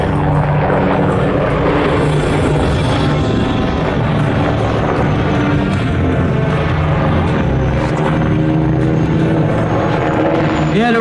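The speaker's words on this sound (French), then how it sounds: "Alors cet hélicoptère, on l'a équipé de 2 moteurs turboméca de 1285 chevaux chacun." A helicopter fitted with two Turbomeca engines of 1285 horsepower each flies a wing-over at an air show, its loud, steady turbine whine and rotor roar filling the air throughout.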